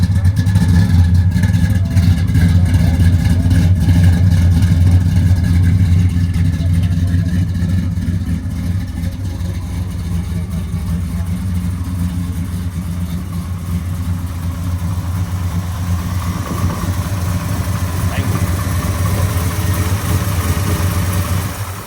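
A 1967 Chevrolet Chevelle SS engine rumbles steadily and loudly up close for the whole stretch, settling into a deep idle with slight swells in the revs.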